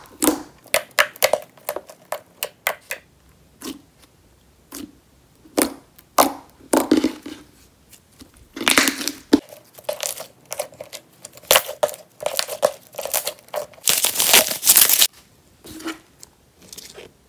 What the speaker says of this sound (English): This one is very nice and glossy and clicky. So it's just this really pink color, and it has some foam